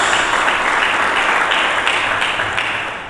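Church congregation applause during a sermon, a loud, dense wash of many hands clapping together, sustained throughout and tapering slightly at the end.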